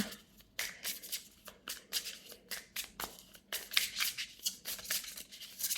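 Small tarot-style cards are shuffled by hand, a quick run of soft papery riffles and flicks repeating in uneven bursts, close and fairly quiet with no talk.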